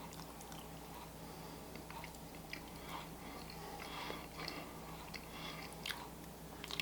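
Someone chews a light, fluffy pumpkin spice pancake close to the microphone, making soft, moist bites and mastication sounds over about seven seconds. It is quiet, with no speech.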